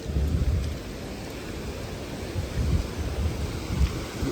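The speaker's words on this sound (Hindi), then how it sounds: "बारिश लगातार चल रही है" Heavy rain falls steadily on a Himalayan mountain road between Badrinath and Kedarnath, with low rumbles of thunder swelling in and out beneath the constant downpour; no one speaks.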